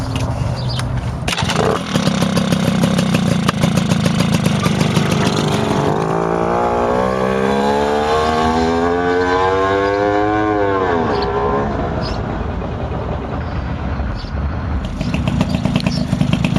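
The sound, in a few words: Tomos A55 moped engine running on a test ride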